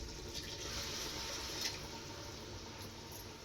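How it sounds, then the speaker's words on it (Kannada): Water pours into a cooking pot in a steady, faint rushing splash that runs unbroken for the whole stretch, with no talking over it. "ಈಗ ನೀರು ಹಾಕ್ತೀಯ? ಹಾಕಿ ನೀರು ಅದಕ್ಕೆ."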